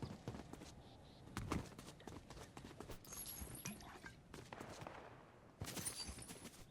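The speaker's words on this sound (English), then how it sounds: "Sounds like there's some shots in the distance" Scattered distant gunfire cracks from a Fortnite Zero Build match, a few faint bursts spread across the clip amid in-game footsteps and ambient noise.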